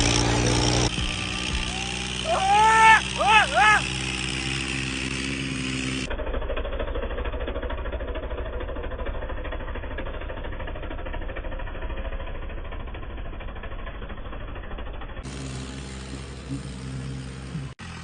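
Farmtrac and Massey 7250 tractors strain against each other in a tug-of-war, their engines a continuous loud, rough rumble, with a brief whistling or horn-like tone early on and abrupt cuts in the sound.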